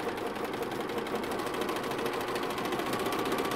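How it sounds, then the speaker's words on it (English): A sewing machine stitches patchwork blocks with a fast, steady whirring chatter of even needle strokes, close and continuous, with no voices. "Putting it under the machine. Do a few stitches."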